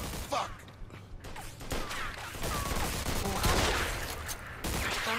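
Gunfire in the Mafia 2 video game, a dense fusillade of rapid shots and mechanical clatter filling the scene, loud and sustained with brief gaps, alongside faint creaking.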